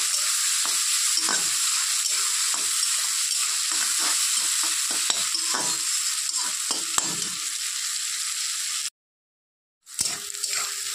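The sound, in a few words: fish, onion and garlic frying in pan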